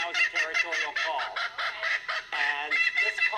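A kookaburra, a bird native to Australia, gives its territorial call, heard mostly at dusk and dawn: a loud, close, raucous cackling series of rapid repeated notes that runs without a break for several seconds.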